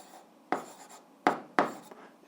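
Pen strokes of an answer being written down for an algebra exercise, three distinct scratchy bursts with short pauses between them, close and fairly quiet against a hushed background, with no talking.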